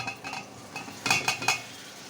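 Utensil stirring shrimp and greens picked from a balcony in a pan on an electric induction cooker, a few close scraping clinks in a quick cluster after softer stirring sounds.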